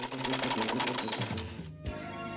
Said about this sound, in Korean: 타자의 소리는 한글의 끊임없는 발전을 말해주는 듯 대회장을 울렸습니다